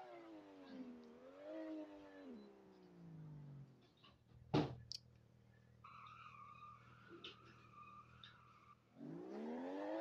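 A Toyota Supra street racing in the video game Vehicle Legends, its engine note sweeping up and down through gear changes, with a sharp impact and tire squeal midway and a steady engine drone afterward.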